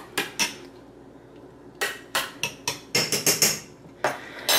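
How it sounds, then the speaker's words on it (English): A spoon stirring raisins in hot tea, making about a dozen sharp metallic clinks and taps against the container in irregular clusters, close and distinct, with no talking. "I'm going to go ahead and stir this around a little bit just to get the raisins broken up and submerged in the hot tea."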